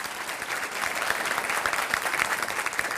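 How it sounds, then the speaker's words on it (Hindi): Studio audience at a televised debate claps to welcome the speakers, a sustained, even wash of applause throughout, moderately loud and without voices over it. "तालियों के साथ स्वागत कीजिए"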